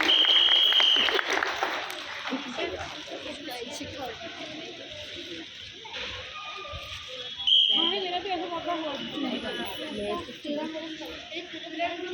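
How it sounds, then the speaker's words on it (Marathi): A crowd at an Independence Day event on 15 August claps for a human pyramid, with loud applause at first and a sharp whistle, then fading clapping under a voice speaking over a loudspeaker. "सगळ्यांनी जोरदार टाळ्या वाजवून त्यांचं अभिनंदन करायचं आहे."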